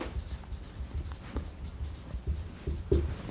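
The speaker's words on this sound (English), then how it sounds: "Let me write this down." A pen writes by hand through a math problem with soft, close scratching strokes and small taps in an irregular rhythm. The writing continues quietly and no one speaks.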